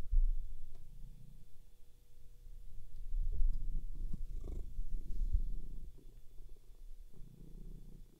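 Lilly the cat purrs close to the microphone, a soft low rhythmic rumble that swells and fades in slow cycles over a faint steady background hum.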